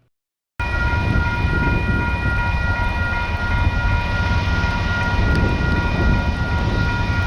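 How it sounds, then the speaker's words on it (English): A train rolls past a railroad crossing in Oregon, starting abruptly after a brief silence, then a continuous loud rumble of wagons with sustained crossing-bell or horn tones ringing steadily over it, nearby and unbroken. "That is until I stop at this train intersection in Oregon."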